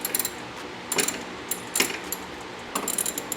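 A ratchet tightens the hood bolts on a BMW F30 in several short bursts of quick metallic clicking, close and fairly loud, with brief pauses between the bursts.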